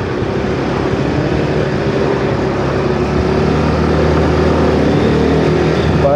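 A Yamaha D'elight 125 scooter accelerates on a road, its engine giving a steady, fairly loud hum that holds constant for several seconds with no speech.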